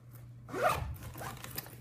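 A zipper on a green zippered pouch pocket is pulled in two quick rasping runs, close and clear, with no talk.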